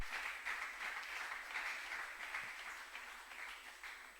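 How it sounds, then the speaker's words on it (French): A church congregation applauding for Jesus, a continuous, fairly faint wash of clapping from many hands that holds steady and fades slightly at the end. "acclamons pour Jésus"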